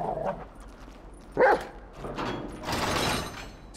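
Chop, the dog in Grand Theft Auto 5, lets out a sharp bark followed by short whimpers and yips over a low game background hum.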